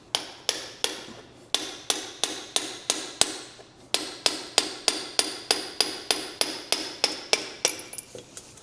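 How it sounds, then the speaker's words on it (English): A punch is tapped against the ground again and again to knock a part out of a 1975 MG Midget, giving sharp, evenly spaced metallic taps close by, with one short pause partway through. "I like to put my thumb over the top here and just tap it on the ground a few times"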